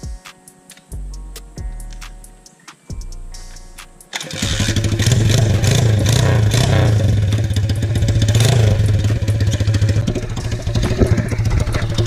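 A pit bike with a straight-pipe exhaust and no muffler: a few clicks and cranking attempts, then the engine fires and settles into a loud, steady, rapid-firing putter with a raw crackling edge, close up and without talking.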